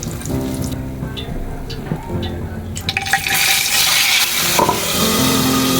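Rohu fish frying in hot white oil in a pan, a steady bright sizzle that swells loudly partway through and continues, with scattered clinks early on and no talking.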